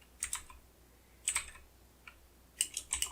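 Typing on a computer keyboard while writing code: short clustered bursts of key clicks with pauses between, close and fairly quiet, with no talking.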